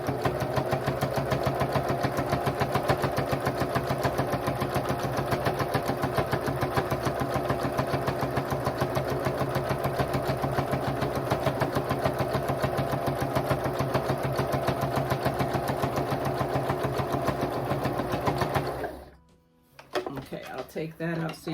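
Sewing machine stitching the seam of a king-size pillow sham, a steady rapid mechanical whirring hum running nearly continuously up close, then stopping abruptly near the end with a brief clunk and quiet handling.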